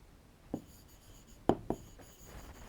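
Marker or chalk strokes on a classroom board during a biology lesson, three brief separate taps and scratches, the second and third close together, in a quiet room.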